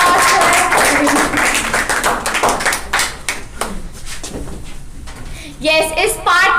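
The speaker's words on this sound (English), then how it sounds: "Give a big applause for him." People clap for an award recipient at a monthly rewards and recognition ceremony, uneven clapping with knocks, mixed with voices and crowd noise.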